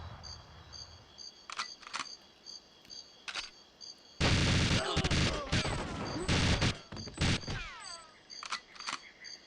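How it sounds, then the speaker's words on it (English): A grenade goes off in the Nintendo 64 game GoldenEye 007: a loud, dense blast bursts out and rumbles for a couple of seconds, surrounded by shorter sharp shots over a steady electronic game soundtrack. "There's the grenade"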